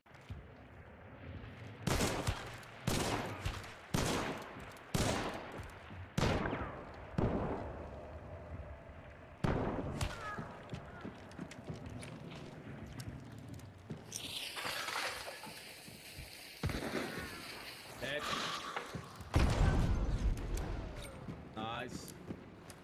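Gunfire and a grenade kill in Hunt: Showdown: a string of sharp, booming shots spaced a second or two apart, then a rumbling blast and more heavy bangs, all close and loud.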